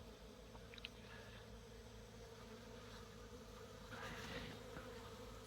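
Honey bees hum steadily around a beehive on a warm November day, a continuous close buzz with individual insects swelling louder as they pass near.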